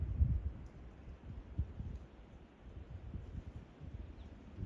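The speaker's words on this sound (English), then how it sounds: "Wind is picking up." Wind moving through the woods at Green Lakes State Park, a steady low rumbling rush with gusts swelling and easing, some buffeting on the microphone, and no talk.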